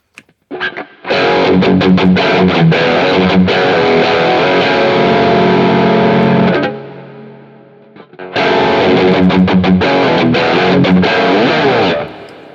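Heavily overdriven electric guitar through a green Tube Screamer 808 pedal with gain near maximum, playing loud, saturated chords, stopping briefly for a ringing pause before the crunchy riff resumes.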